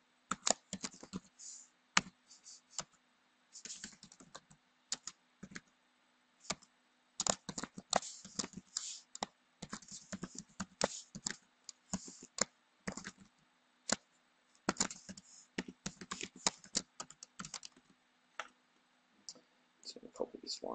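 Rapid typing on a computer keyboard while coding a Sitecore unit test, with bursts of crisp, close key clicks in uneven runs broken by short pauses, fairly quiet overall, with occasional talk mixed in.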